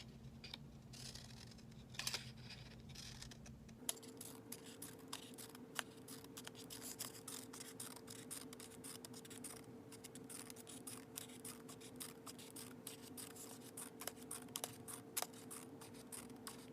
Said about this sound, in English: Use one of the strips. Make a fringe cut.